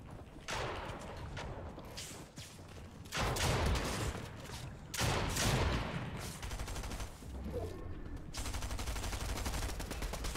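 Dense rapid gunfire from a competitive online shooter fills the whole stretch, with sustained automatic bursts and loud volleys. Players talk over the shooting.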